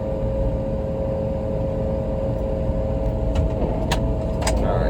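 A farm tractor's engine drones steadily and loudly as the clutch is let out slowly while baling second-cut hay, a constant low hum with a few faint metallic clinks near the end.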